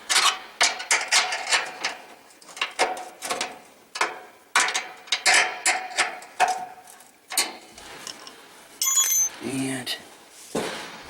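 A 3/8 inch wrench snugs down the motor mounting bolts on a 1977 Westinghouse electric dryer, giving a run of close, repeated ratcheting clicks and metallic knocks in short bursts, with a brief faint beeping near the end.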